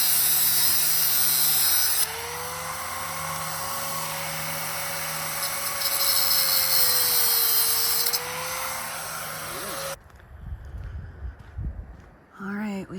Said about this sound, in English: Now we, just take the grinder and we cut this off.